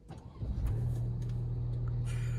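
A car engine cranks briefly and catches after a service, then settles into a steady low idle hum; close by and moderately quiet, with no talk over it.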